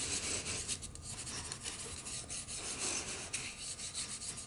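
Soft, continuous rubbing and rasping as something is lightly brushed over an embossed paper background, a close, even scratchy texture with small repeated strokes and no talking.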